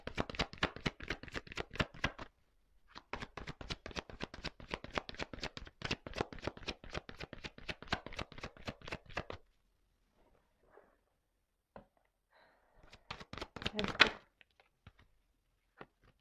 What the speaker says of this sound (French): je prends une petite carte encore